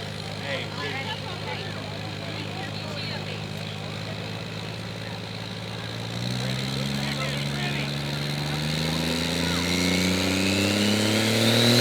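A diesel pulling truck with a VP44 injection pump runs at a truck pull, its engine droning steadily and then climbing in pitch as it revs harder in the second half, loud and close with crowd noise around it.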